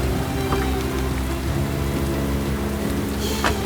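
Heavy rain pours steadily onto surfaces outdoors, a dense, continuous hiss and patter that stays loud and unbroken throughout, with no voices heard.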